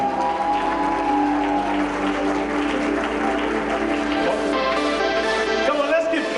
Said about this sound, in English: Come on, let's keep clapping till she gets here.